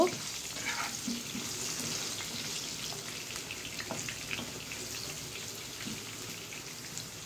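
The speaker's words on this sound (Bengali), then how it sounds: "আলুটা আমার মোটামুটি লাল লাল করে ভাজা ভাজা হয়ে গেছে।" Potatoes fry in hot oil in a pan while cooking chicken curry, a steady close sizzle and crackle with occasional stirring clicks throughout, no voices.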